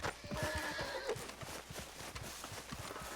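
A horse in the Red Dead Redemption 2 video game lets out a loud, close whinny that rises and falls for about a second, followed by a steady patter of clip-clopping hooves.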